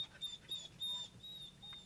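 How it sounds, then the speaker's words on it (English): A dog in an anime whimpers in faint, high, thin whines, several short broken cries across a couple of seconds, heard alone at low volume. "The whimpering sound."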